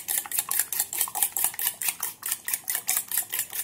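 A spoon beating egg, oil and sugar in a bowl, giving a steady, quick run of rhythmic clinking strokes against the bowl, close and even throughout.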